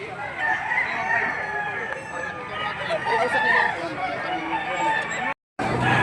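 Roosters and chickens at a livestock auction market in Padre Garcia, Batangas, crow and cluck continuously amid crowd chatter, with several birds calling at once and a brief cut near the end.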